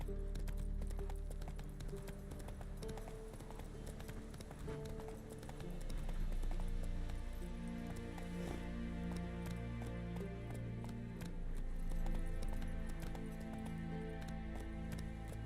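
Horse hooves clip-clopping at a steady run in The Witcher 3, a continuous rhythmic beat over a dense layer of game music, with an occasional faint snort.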